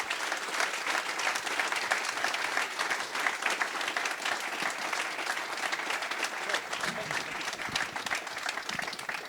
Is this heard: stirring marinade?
no